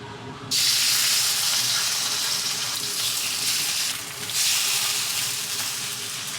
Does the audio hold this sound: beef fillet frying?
yes